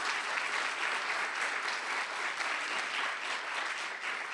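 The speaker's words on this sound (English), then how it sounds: "let's give our Board of Education a round of applause if we could" A crowd applauds steadily throughout, a dense wash of clapping hands that stays loud and even from start to finish.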